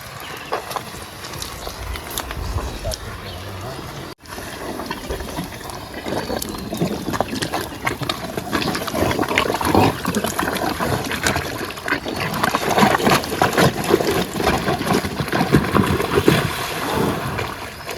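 A wooden boat is lowered into rising tidal water in a Sundarbans creek, with continuous scraping, sloshing and splashing that grows louder and busier over time, no talk.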